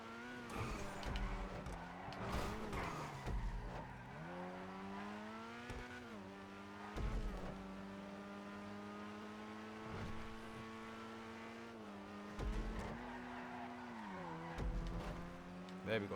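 A Grotti Itali RSX sports car races in the video game GTA, its engine revving and shifting steadily through gears with brief tire squeals, while someone talks quietly underneath.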